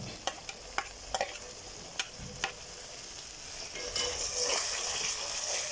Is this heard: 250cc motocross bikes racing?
no